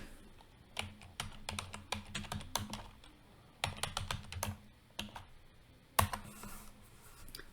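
Fingers type on a computer keyboard in quick, close bursts of crisp clicking keystrokes, with short pauses between the runs and one sharper keystroke near the end.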